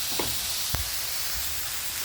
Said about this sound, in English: Still sauteing.